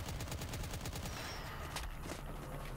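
Gunfire in the 1990s-inspired arena shooter Impaler: a dense, rapid burst of repeated shots for the first couple of seconds, then thinning out over a busy, loud game soundscape.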